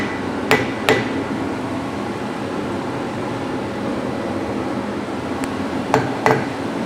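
A rubber hammer taps ball joint caps onto a Porsche 356 spindle, a few sharp knocks in pairs near the start and end over a steady hum of background noise.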